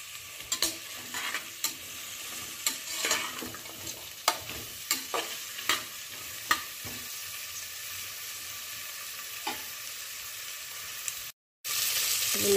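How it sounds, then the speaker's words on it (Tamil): Minced mutton kaima sautés in a pan with a continuous soft sizzle, punctuated by irregular spatula scrapes and taps, then a brief silent gap before the frying resumes louder. "நல்லா வதங்குது."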